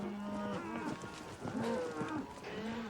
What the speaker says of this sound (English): the cattle move smoothly on the way to a squeeze chute where they are inoculated